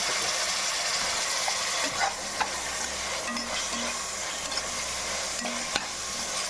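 Large chunks of tomato sauté with ginger garlic paste for dum biryani, giving a steady close sizzle with rough stirring scrapes throughout and no talking.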